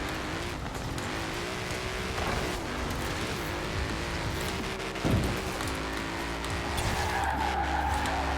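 A car in Forza Horizon 4 drifts with a continuous roar of engine and tire skid, a steady hissing rush with a brief thump midway.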